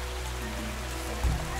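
Rain falls steadily on a surface, a constant close hiss of drops with a low rumble underneath and one brief louder knock near the end.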